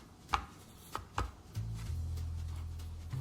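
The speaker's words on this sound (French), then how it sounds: "on aplatit un petit peu le beurre." Butter being flattened for galette des rois puff pastry: a few dull, separate thumps, then a steady low rubbing press that continues close and alone, with no talk.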